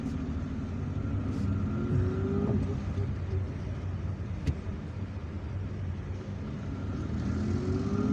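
A car creeping through a traffic jam in Algiers, with a continuous low engine and road rumble plus faint passing vehicle noise throughout, steady and moderately loud, and no clear talk.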